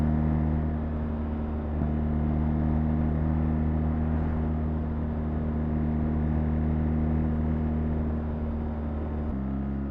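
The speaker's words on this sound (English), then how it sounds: "You'll hear the wind, but there's no turbulence." Steady, loud wind rush from riding a BMW R 1300 GSA motorcycle, a constant broad roar layered over a low engine drone that holds throughout without gusting.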